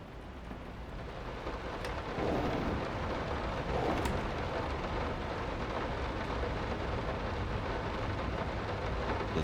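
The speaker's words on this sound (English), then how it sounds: "I do love the sounds of this game. The atmosphere is. You hear the rain?" Steady rain and a low rolling thunder rumble form the ambience of the horror game Layers of Fear, a dense continuous wash with a swell of thunder partway through and no talking.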